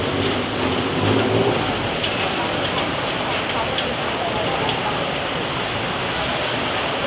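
Heavy rain pours down steadily over Bangkok in a dense, constant hiss, with a voice talking faintly beneath it.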